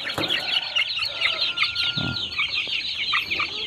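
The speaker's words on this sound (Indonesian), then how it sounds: "Ayam sehat." Several chickens cluck and chatter continuously at close range, with bright overlapping calls and a low scratchy murmur of the flock underneath.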